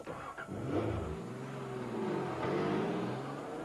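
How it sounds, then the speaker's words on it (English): A Nissan 300ZX Turbo sports car engine revs up smoothly and holds a loud, rising drone, then revs again in a sustained accelerating roar with no voices. "Nissan 300ZX Turbo."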